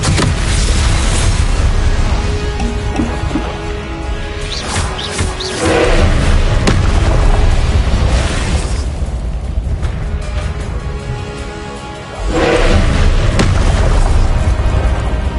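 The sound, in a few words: spell casting and explosions from the video game Hogwarts Legacy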